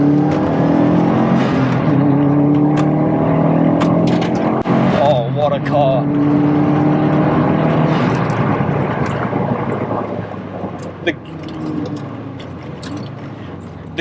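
A Subaru Impreza STI Spec C Type RA pulls hard through the gears on an open road, its engine a steady loud drone with brief shift breaks, fading somewhat near the end, with people talking underneath.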